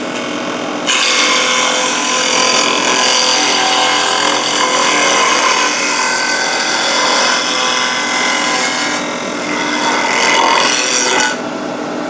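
A safety planer spinning in a drill press shaves across a wood surface, a loud continuous abrasive whir with the cutting rasp cutting in after a moment, easing briefly midway and stopping near the end.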